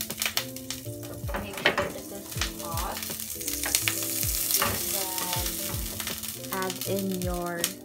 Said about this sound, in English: So you can go ahead and put your butter to the pan.